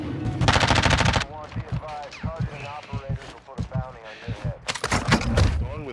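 Call of Duty DMZ gunfire, two loud rapid automatic bursts at the start and end with a player talking in between.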